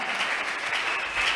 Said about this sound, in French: en acclamant très fort